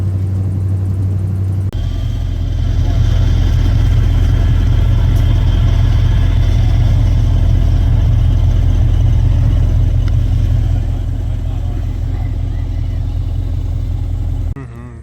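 A car engine rumbles loudly from inside while driving on a brisk morning, a deep steady drone that rises after a couple of seconds and holds before easing off near the end.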